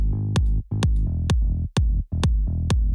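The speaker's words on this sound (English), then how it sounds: "So then the kick and the sub together sound like this." A remix pairs a punchy kick drum with a deep sub bass, thumping in a steady rhythm of about six hits in three seconds, each hit followed by a booming low bass tail.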